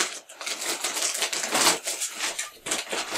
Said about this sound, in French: J'ai pris un ciseau, parce que je ne veux pas déchirer ce qu'il y a à l'intérieur